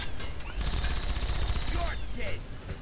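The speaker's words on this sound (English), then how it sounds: "I'm trying to shoot people until they are dead." Rapid automatic gunfire in Fallout 3 rattles steadily for over a second amid dense, loud game noise, with scattered shots and impacts around it.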